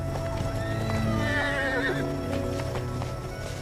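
A horse neighs in a long, wavering whinny while hooves clip-clop beneath it, set against a busy background with faint voices and other noise.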